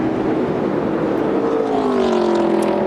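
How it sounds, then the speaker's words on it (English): A race car with a blown engine sweeps down the front straightaway at the 2012 O'Reilly Auto Parts 300, a continuous loud roar with a rising and shifting drone as it passes. "you can hear the car come by the front straightaway"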